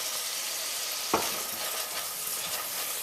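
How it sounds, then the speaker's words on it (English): A spoon stirring coconut curry pumpkin soup in a pot over a steady sizzle, with one sharp scrape or knock against the pot, close and continuous, no talk. "Give that a quick stir."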